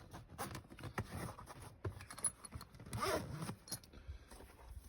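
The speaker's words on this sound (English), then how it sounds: "So we'll open it up. We've got the tough YKK zippers." A tough YKK zipper is pulled open around the reinforced lid of a plumber's kit bag. The rasping pulls come in several bursts, close and fairly quiet, with light fabric rustle and no talking.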